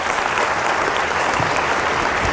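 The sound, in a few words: audience applause for people in foster care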